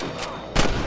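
Gunfire in the western game Red Dead Redemption: a couple of sharp, close shots crack in quick succession within a second.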